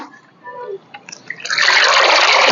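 Water poured into a bucket of sour buttermilk with tulsi, a quiet start with faint knocks, then a loud steady gush of pouring water filling the last second.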